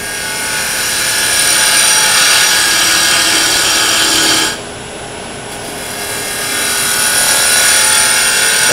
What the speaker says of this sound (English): Now I want to just get rid of waste wood here.